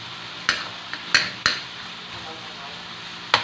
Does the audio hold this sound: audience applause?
no